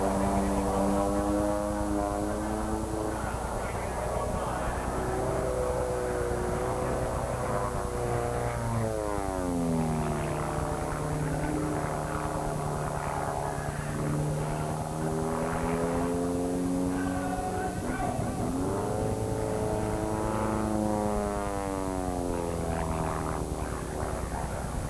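A Stevens Acro aerobatic propeller airplane flies overhead, its loud droning engine rising and falling in pitch with sweeping Doppler shifts as it climbs, dives and passes through manoeuvres, continuous throughout.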